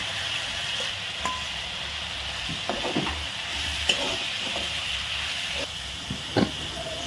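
Taro, potatoes and tomatoes frying in a pan with turmeric and salt, a soft continuous sizzle and hiss broken by scattered scrapes and clicks of a spoon stirring.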